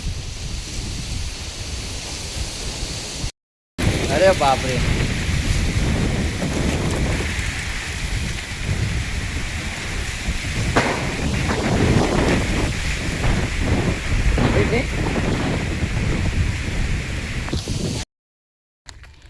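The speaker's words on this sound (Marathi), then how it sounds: "बोलायला होत नाही एवढा वारा आलाय" Strong gusting wind roars and buffets the microphone as the first monsoon rain begins during a storm in Sindhudurg, a loud continuous rush with brief dropouts, and a voice exclaims briefly partway through.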